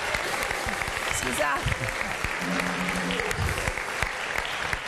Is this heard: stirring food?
no